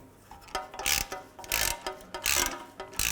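Rhythmic ratchet clicks from tightening the bolts on a front lower ball joint of a 2003-2010 BMW X3, in several quick bursts of close mechanical ratcheting.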